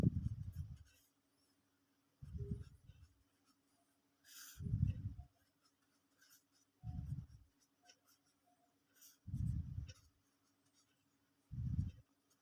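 Pen or chalk strokes from someone writing out a Pythagorean theorem solution, arriving in six separate bursts of scratching with quiet pauses between them, close and fairly soft, with no talking.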